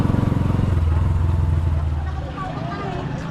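A motorcycle starter motor cranks with a rapid, pulsing whir close by for about two seconds, then drops into a quieter rumble.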